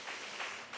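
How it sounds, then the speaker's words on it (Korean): Brief burst of warm applause from a church congregation during a Sunday worship service, a dense even wash of many hands clapping, fairly faint and with no talk. "따뜻한 박수로 하시고"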